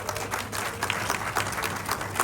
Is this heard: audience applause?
yes